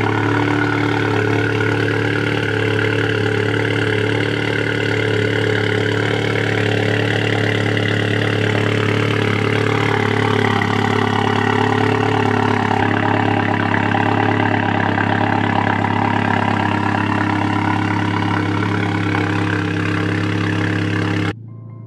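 A car engine idling steadily after a cold start at a loud, constant rumble with an even hum, running alone without any talk.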